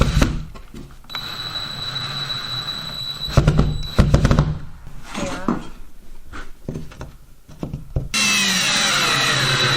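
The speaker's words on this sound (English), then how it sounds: "I'm going to be screwing this cutout right back in where it came from." A power drill drives screws to fix a drywall cutout back onto wood inside a home renovation, with whirring bursts, squeals and knocks, close and loud, amid handling noise and a steady hiss near the end.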